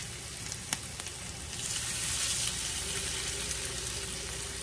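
Shredded hash browns made from three potatoes sizzle in a pan, a steady bright crackle that swells slightly after a sharp tap early on, with no talking.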